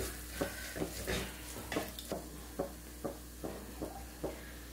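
Green chilies and coriander powder frying in a pan, with a soft sizzle under repeated rhythmic scrapes and taps of a spoon mixing everything together, close and moderately quiet, no talking.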